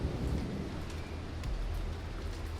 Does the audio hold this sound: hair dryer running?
no